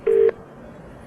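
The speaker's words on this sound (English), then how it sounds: "Now watch how rapidly it connects to the phone system in England." A single short touch-tone dialing beep on a telephone line placing a call to England, loud and steady, then a brief quiet line hiss.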